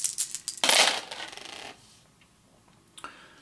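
Six dice rolled during a board game clatter in one dense burst, then scatter into a few fainter settling taps, followed by a light click near the end.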